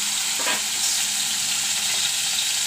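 Asafoetida (hing) hitting hot oil in a pan on a lowered gas flame gives a steady, close sizzle and hiss, with a brief stirring scrape near the start and no voices.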